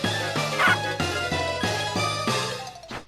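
Short yipping barks from a dog in the video game Shantae: Risky's Revenge, part of a rhythmic run of repeated chip-tune sound effects with musical tones in the background.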